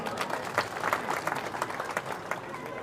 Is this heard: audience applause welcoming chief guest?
yes